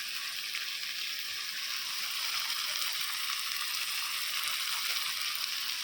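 Shrimp fry in mustard oil with a bright, steady sizzling hiss, close and even throughout, with no voices over it.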